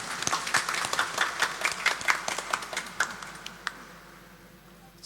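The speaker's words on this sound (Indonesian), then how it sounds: "maka tepuk tangan untuk mereka semua." A congregation claps inside a church during a Mass installing parish group officers, the individual claps clearly separate in a loose rhythm before tapering off into quiet after a few seconds.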